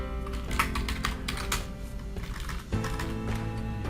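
Rapid clicking of computer keys fills the moment, a busy irregular patter of keystrokes close up, with a brief pause before typing resumes, and no talking.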